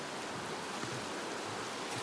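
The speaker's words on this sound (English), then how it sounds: "This is just a little creek that runs into this big" A small creek flows into a bigger river beside a hiking trail in Virginia, giving a steady, even rush of water that stays constant throughout with no voices.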